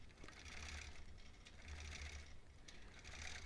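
A quilting machine stitching a Double Wedding Ring topper, a quick mechanical needle chatter in short runs with brief pauses, fairly close and quiet.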